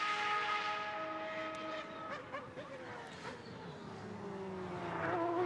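A Superleague Formula race car engine revs and accelerates through gears during qualifying, its rising whine heard at moderate distance.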